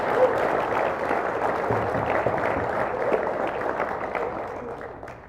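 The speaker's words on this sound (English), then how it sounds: "please join me once again in applauding all of our new Honor Society members" An audience at a 2021 National Honor Society induction ceremony applauds the new members, a steady wash of clapping from a seated crowd that gradually fades out.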